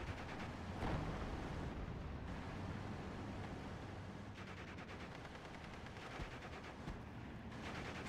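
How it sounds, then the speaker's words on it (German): Artillery fire in the WWII strategy game Steel Division Normandy, heard as a quiet, continuous rumble of distant explosions and gunfire that rolls on without any clear break. "Dann mal Artillerie da rein."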